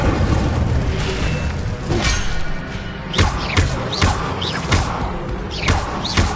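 Incendio fire spells are cast in a Harry Potter video game, heard as a loud string of booming thuds and crashes, several hard hits in quick succession.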